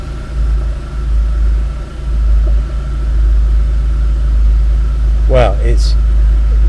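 Porsche 993 Turbo S idling just after start-up, a loud, steady low droning rumble with faint popping, running throughout while a voice briefly speaks near the end.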